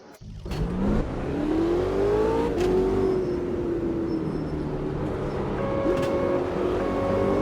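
A small race car in Automobilista 2 revs up from the start, its engine note climbing and holding steady, loud and close, with gear shifts changing the pitch as it accelerates along the front stretch.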